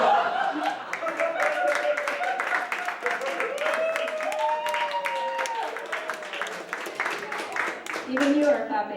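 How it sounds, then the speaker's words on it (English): An audience claps in a steady, dense patter that lasts throughout, with crowd voices mingled in. "Even you are clapping for that."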